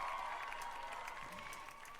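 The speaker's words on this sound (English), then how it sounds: "Thank you for the claps." Faint, distant clapping from a small group, a soft steady patter of hands behind a humming tone that thins out slightly toward the end.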